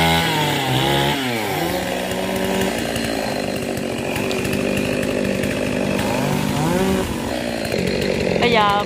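A chainsaw cuts into an areca palm tree at Gò Công, its engine rising and falling in pitch as it revs and bites through the trunk, loud and close throughout, with someone talking over it.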